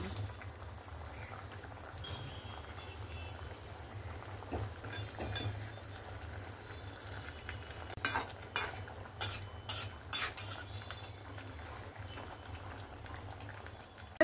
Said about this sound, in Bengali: আমি মাছগুলো দিয়ে ভালো করে নাড়াচাড়া করে দিয়েছি।